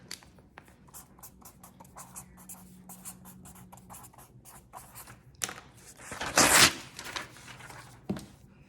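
Marker or pen writing a label on paper for a homemade meal kit, rapid scratchy strokes in quick bursts, then a louder rustle of handled paper near the end, close and alone.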